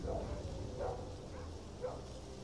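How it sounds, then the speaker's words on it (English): Dogs bark in S.T.A.L.K.E.R. Call of Pripyat, three separate barks spaced about a second apart, moderately distant, over a steady game ambience. "I hear some dogs."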